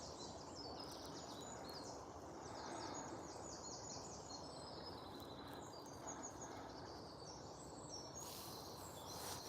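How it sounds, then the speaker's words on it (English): Birds of mixed kinds sing from trees in a suburban park early in the morning, faint and distant: scattered high chirps and calls, with a few crow-like caws, over a steady low background hum. "I think it's probably a mix of birds of some sort of description. They're in the trees here somewhere and you can't see them."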